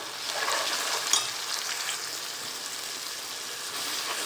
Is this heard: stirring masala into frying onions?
yes